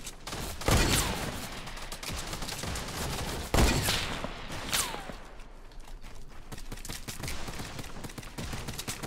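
Hunting-rifle shots in Fortnite Battle Royale: a few sharp, loud cracks spaced seconds apart, each with a short echoing tail, amid quieter footsteps and movement between shots.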